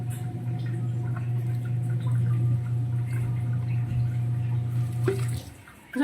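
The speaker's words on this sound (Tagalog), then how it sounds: "Napakahina ng tubig." Thin trickle of tap water running weakly from a faucet during dishwashing, a steady low continuous flow that cuts off near the end.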